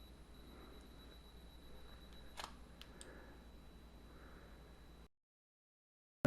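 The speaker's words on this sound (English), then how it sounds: "I'm pressing the shutter release to start the timer" A camera shutter release pressed to start a self-timer for light painting, giving a brief sharp click or two under a steady quiet hiss, then silence.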